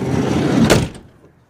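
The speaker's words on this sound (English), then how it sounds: "Come over, slide the door shut," A Chevy Venture van's sliding door rolls along its track and thuds shut, a single close, loud closing sound that trails off into quiet.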